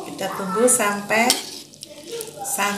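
Vegetable lodeh simmering in a pot as coconut milk is stirred in, with a spoon scraping and clinking against the pot in several bursts over a soft steady sizzle, close and fairly loud.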